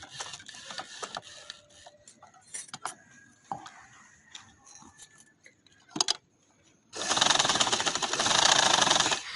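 A sewing machine stitches trouser fabric; scattered light clicks and handling knocks give way to a loud, sustained run of rapid mechanical stitching near the end.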